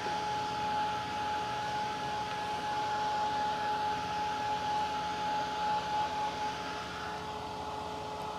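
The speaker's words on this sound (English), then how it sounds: "it's important that you move away from your Gelli plate when you're using your heat gun" A heat gun runs steadily while drying an art journal page, a continuous close whine and airy blowing hum that holds for several seconds with no talking.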